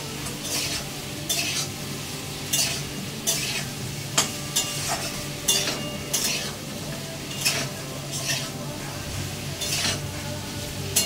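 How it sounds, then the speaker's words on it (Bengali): Chicken pieces sauté in a hot pan for a chilli garlic dish, with a steady sizzle throughout and regular scraping and clinking of a spatula stirring them against the pan, close and fairly loud, with no talking. "আর এইবার আমি এই চিকেনগুলোকে দিয়ে একটু সটে করে দিয়ে নামিয়ে দেবো।"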